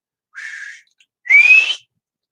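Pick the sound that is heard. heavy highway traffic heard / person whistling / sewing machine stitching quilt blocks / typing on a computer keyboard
person whistling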